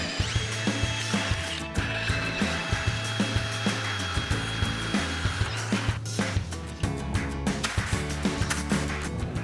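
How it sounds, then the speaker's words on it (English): A power drill whirs steadily in repeated bursts, biting and grinding through metal rivets on a Coleman camper's lift trim, loud and close, with no talking. "Drill both of these rivets out."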